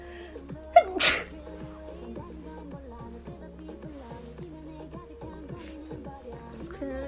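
A young Japanese woman lets out one loud, sharp sneeze about a second in, followed by steady background music with no further sneezes.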